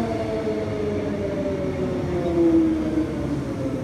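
Steady hum and rumble of an EMU electric passenger train running, a continuous mid-level drone with faint tonal whine, no voices.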